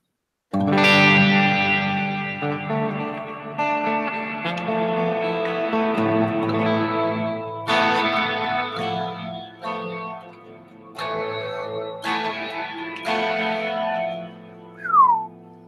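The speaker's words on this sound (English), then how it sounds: "We want to do a stereo reverb." An electric guitar played through a Line 6 HX Stomp set to the Glitz stereo reverb, with sustained chords and single notes ringing into a shimmering, washy tail and a gliding pitch sweep near the end.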